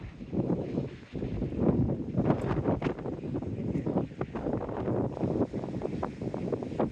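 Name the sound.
wind on a seafront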